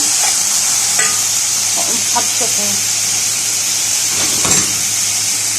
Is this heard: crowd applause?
no